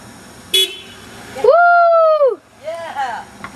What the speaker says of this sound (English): Let's see if it honks.